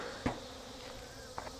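Robbing bees buzz around a failed, abandoned beehive, a steady faint hum with a couple of brief louder passes close by.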